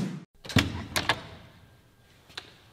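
A heavy, newly installed door is moved, giving several sharp knocks and thuds followed by fading rumble, then one more knock after a quiet stretch.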